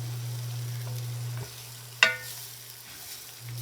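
Flour being stirred into beef stew in a pan: a faint, steady sizzle with a low hum beneath and a single sharp spoon clack partway through.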